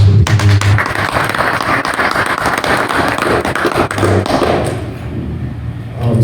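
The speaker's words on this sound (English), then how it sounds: "Give yourself a round of applause for being here." Book signing audience at a meet-the-author event gives themselves a round of applause: loud, close clapping with some heavy thumps, holding steady before fading out at the end.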